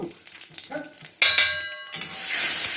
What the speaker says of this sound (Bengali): গরম হয়ে গেছে আমি এবার পাঁচফোড়নটা দিয়ে দিলাম শুকনো লঙ্কাগুলো দিয়ে দেবো